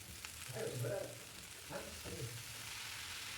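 Chopped greens are stirred into sautéed onions in a hot pan. Quiet sizzling runs throughout, broken by a few soft scraping bursts as the spatula moves them around.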